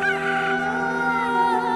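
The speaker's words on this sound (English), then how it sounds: "Immediately, while he was still speaking, the rooster crowed" A rooster crows in one long, steady, sustained call with bright layered harmonics, fairly close and clear, with no voices over it.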